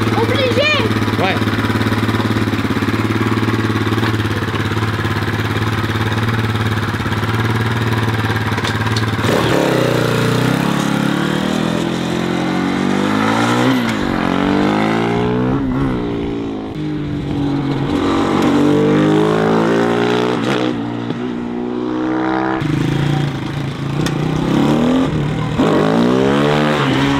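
A child's small motorbike idles, then accelerates repeatedly in short bursts, its rising and falling engine whine loud and close throughout, with people talking over it.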